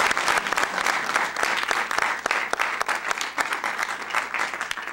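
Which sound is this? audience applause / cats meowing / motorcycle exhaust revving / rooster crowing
audience applause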